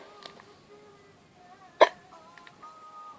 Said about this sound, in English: Oh, I have got the hiccups